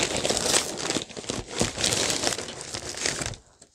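Plastic packaging crinkles and crackles loudly up close in a continuous, uneven burst, then briefly fades to quiet at the end.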